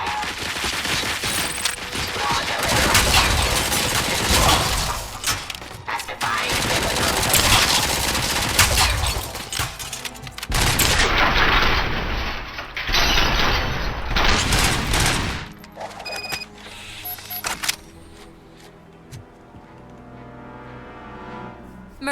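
Sustained automatic gunfire in RoboCop: Rogue City rattles loudly in dense overlapping bursts for most of the stretch, then cuts off, leaving a quieter hum with a few scattered shots.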